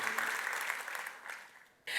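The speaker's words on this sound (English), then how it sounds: "Let's give her a big round of applause." An audience claps in a steady round of applause that gradually thins and fades, then a sudden sharp burst of sound cuts in right at the end.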